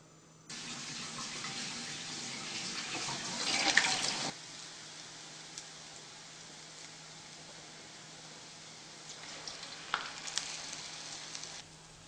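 Dahi vada dough balls sizzling in hot oil, a steady broadband frying hiss that swells briefly as they go in, then settles to a quieter continuous bubbling with a few small pops near the end.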